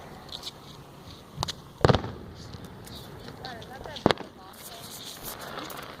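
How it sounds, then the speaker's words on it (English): Street fireworks and firecrackers burst in a few loud, sharp cracks, two standing out above the rest, amid crackling and background voices from people nearby. "fireworks on every corner."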